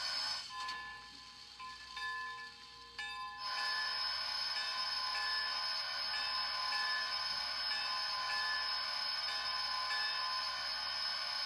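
An HO scale Bachmann three-truck Shay model locomotive with a LokSound V4.0 decoder sounds its bell, a repeated metallic ringing over a steady hiss, starting faint and growing louder and continuous after a few seconds.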